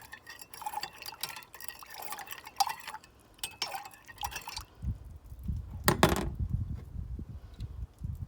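Salt water brine being stirred and sloshed in a container, with clinks of a utensil against the side, close up and fairly soft.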